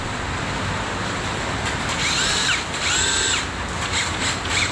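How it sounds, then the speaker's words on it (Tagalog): Impact drill running in a workshop among old termite-damaged timber, a loud, steady motor whine with a faint rising and falling pitch, continuous and close, with no talking. "May switch yan, impact drill, ayan oh."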